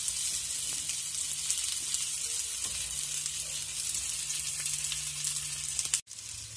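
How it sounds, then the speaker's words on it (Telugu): Chicken leg pieces roast in a pan over a low flame, making a steady, close sizzle and fine crackle that runs evenly, then cuts off abruptly near the end. "ఈ లెగ్ పీసెస్ని మనం లో ఫ్లేమ్లో పెట్టి మనం రోస్ట్ చేసుకోవాలి"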